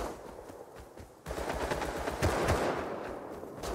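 Automatic gunfire in the survival video game Rust, loud bursts of rapid shots stacking into sustained fire, with a sharp jump in intensity partway through and heavier cracks near the middle.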